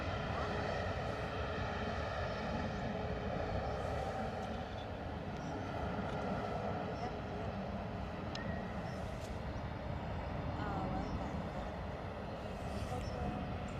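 A Ryanair Boeing 737 landing at London Stansted Airport, its jet engine roar steady and broadband throughout, fairly quiet and distant, with faint voices talking beneath it.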